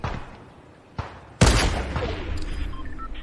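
Gunfire bursts in the Fortnite video game: a sharp loud shot lands mid-clip after a smaller thump, followed by sustained rumbling noise and faint game effects, with no voices.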